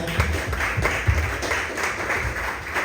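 A church congregation claps for the Lord in steady rhythmic bursts of many hands, a full, even applause throughout.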